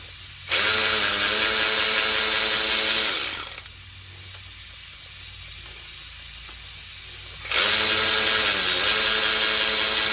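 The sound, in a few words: loosening bottom bolts with nut grip socket tools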